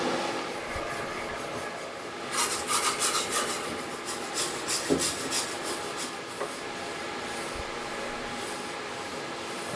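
Hand scraping of loose rust from a van's metal body, a continuous gritty rasp with a busier burst of strokes in the middle, fairly close and without talk.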